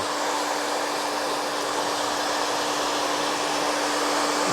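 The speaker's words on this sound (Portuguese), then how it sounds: "eu trabalho o secador em cima desse rodemoinho aqui" A hair dryer blows steadily during a haircut, with a constant whooshing hiss and a faint motor hum, close and unchanging for the whole stretch.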